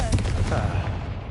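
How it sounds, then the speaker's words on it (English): A Confringo fire-blast spell cast in the Hogwarts Legacy video game erupts as a loud, booming explosive burst with a dense, rumbling roar that holds steady for about a second. "Confringo."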